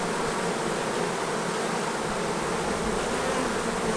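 Dense, steady buzzing of a honeybee swarm as it is caught and hived, a close, continuous drone filling the air with no pauses.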